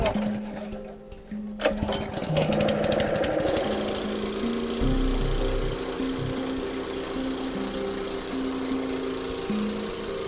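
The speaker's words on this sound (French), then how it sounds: "On va démarrer le petit moteur." A small engine on a sawmill starts and then runs steadily to saw a small log, a loud continuous droning mechanical whir with a sputtering rise at startup.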